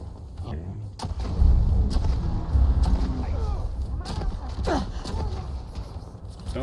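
Gunfire from a heavy-damage weapon in Fallout 4, several loud sharp shots spaced across the scene amid combat noise, with someone speaking between them.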